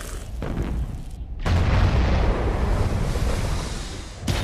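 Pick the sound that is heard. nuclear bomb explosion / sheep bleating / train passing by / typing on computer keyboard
nuclear bomb explosion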